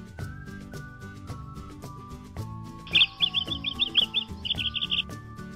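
Birdsong plays as a gag: bright chirps and tweets in rapid bursts, rising in loudness toward the end over a soft melodic background, clear and close.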